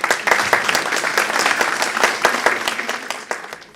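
Dense audience applause in a hall at a women's day event, steady and fairly loud for a few seconds with no voices over it.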